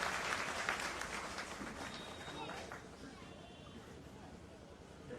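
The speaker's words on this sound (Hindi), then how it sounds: "जोरदार ताली बजा के इनका स्वागत करिए।" Crowd applause at a political rally on a Rajbhar Savdhan Yatra, a dense clatter of many hands clapping, loud at first and tapering slightly over about five seconds with babble mixed in.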